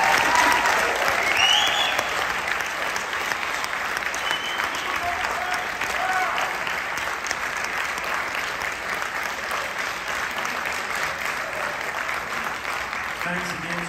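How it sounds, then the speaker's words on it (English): An audience at a county honor jazz band concert applauds student players, a loud sustained wash of clapping that holds for about fourteen seconds and eases slightly toward the end. "Give them one more round of applause."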